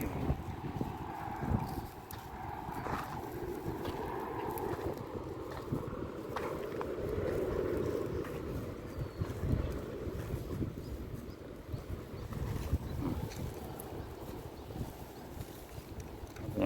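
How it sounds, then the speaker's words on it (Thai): A gentle breeze blows outdoors in rural Thailand, where buffaloes are out grazing, making a soft, uneven rush with occasional gusts and faint knocks, quiet and continuous. "บรรยากาศลมโซยๆ พี่น้องลมดี"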